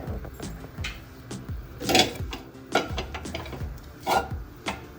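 Spoon scraping and clinking against a pan while mixing toor dal kachori filling with lemon juice, a series of soft rubs punctuated by a few louder metallic taps, close and alone.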